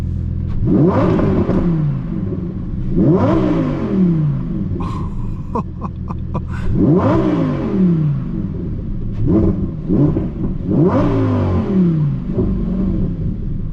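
A Lamborghini Huracan Sterrato's V10 engine revs hard in repeated loud bursts, each climbing and falling back, with a few sharp crackles between the pulls and no talking.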